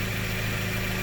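A car engine with a misfire runs steadily with a loud, dense hum and vibration, close to the microphone. No clear stumble is picked out in this short stretch.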